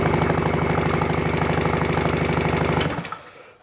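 Car engine cranked over by the starter during a compression test with spark plugs removed and the throttle held wide open, a loud rapid rhythmic churning for about three seconds before stopping abruptly.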